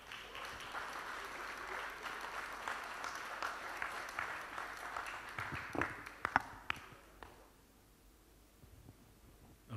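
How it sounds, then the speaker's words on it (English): An audience at a launch event applauds a guest's entrance, steady clapping that tapers into a few isolated claps and then near quiet. "give a huge round of applause for Sooraj Pancholi"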